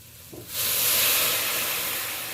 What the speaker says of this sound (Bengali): এই পর্যায়ে আমি অল্প জল অ্যাড করে দেব